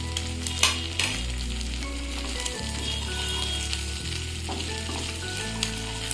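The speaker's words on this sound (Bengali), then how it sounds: "১ চামচ আদা বাটা দিলাম" Ginger paste is stirred into fried prawns in a hot pan for a banana flower and prawn dish, with steady oil sizzling under repeated spoon scrapes and a low hum beneath.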